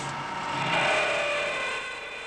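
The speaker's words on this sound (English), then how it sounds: "The drill fails." A drill cutting into material and failing under friction, heard as a loud, steady grinding rasp with a high whining tone that swells in the middle and then eases slightly.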